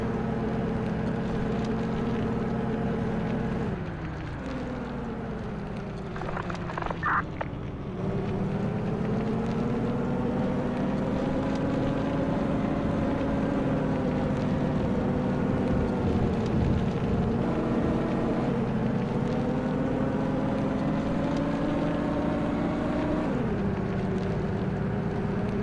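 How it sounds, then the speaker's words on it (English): A car engine in a storm-chasing video game drones steadily with shifting pitch, rising and falling through gear changes, loud and continuous under wind-like noise. "I thought I could hear another car engine."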